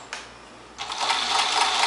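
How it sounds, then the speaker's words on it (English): A sewing machine runs a long baste stitch along a vintage 1946 Vogue dress neckline, a steady close mechanical whir that starts after a brief click and continues alone. "We are going to machine baste this."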